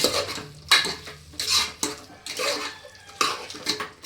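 Spoon scraping and clinking inside a pot while mutton kheema curry is stirred after salt and chili powder go in, several separate bursts of metallic stirring with short quiet gaps, close and fairly soft.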